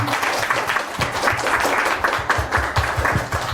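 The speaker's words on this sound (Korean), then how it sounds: "오늘 행사 위해서 다시 한번 큰 박수 부탁드리겠습니다" A seminar audience in a hall gives a round of loud, sustained clapping, many hands close together with an uneven, busy rhythm and no talking.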